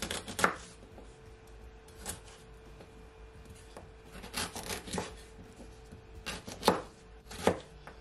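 A knife chops oranges into smaller pieces for juice on a cutting board. There are about six crisp, moderately quiet cuts spaced irregularly, with a light scraping texture and no talk.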